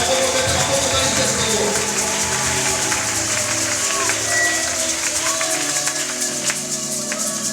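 A church congregation at a worship service cheers and applauds together, a full, sustained wash of clapping and raised voices filling the room without pause.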